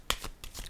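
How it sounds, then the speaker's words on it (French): A tarot card is laid down on a table, giving two or three quick, close papery slaps and slides in a brief soft burst. "Je vais déposer une carte ici."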